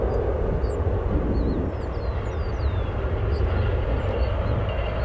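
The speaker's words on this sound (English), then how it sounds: "Get a double shot of 2 Viva Aerobuses, and Airbus A320neo and 321neo." Viva Aerobus Airbus A320neo and A321neo jets at Chicago O'Hare airport, a loud continuous low jet engine roar rumbling steadily throughout, with faint chirping birds above it.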